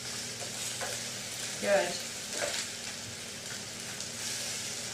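Mushrooms fry and sizzle in a pan, a soft constant hiss broken by scraping stirs as they are moved about; a brief word is spoken over it.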